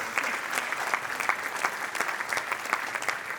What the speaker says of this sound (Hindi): एक बार फिर हमारे सारे कलाकारों के लिए जोरदार तालियां हो जाएं।